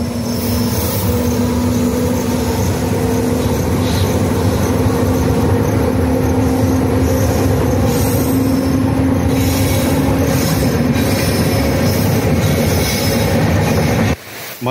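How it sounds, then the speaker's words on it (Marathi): A train rolls past continuously and loud, a steady rumble of wagons with a sustained wheel squeal and faint clicking over the rails, near and alone without talk. "ती बघा दुसरी गाडी यायली"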